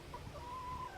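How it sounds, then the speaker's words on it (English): Chickens cluck faintly at a distance, with soft drawn-out calls over a low background hum. "they're down there clucking and making noises"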